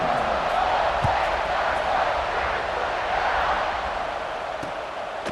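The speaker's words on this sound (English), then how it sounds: "They're set to kick it off, and this crowd now ready to get behind them." Broad, steady roar of a football stadium crowd at kickoff in a college football video game, loud and sustained for several seconds with a faint thump.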